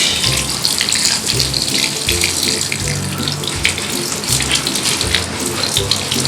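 Tap water runs and splashes steadily while Purigen resin is rubbed under the stream, with a low rhythmic rumble from the handling and no talking.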